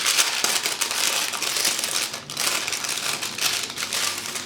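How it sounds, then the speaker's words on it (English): Plastic bag of puffy stickers torn open by hand, a burst of loud crinkly ripping and crackling up close, broken by a short pause before the rustling resumes. "I'm going to rip that bag"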